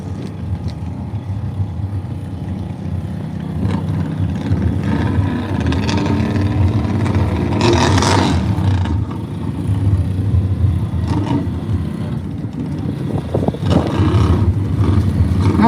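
ATV engines racing in a dirt tire pit at a Hay Days event, a loud continuous roar with revving swells and shifting pitch, one surge peaking midway, heavy low rumble throughout.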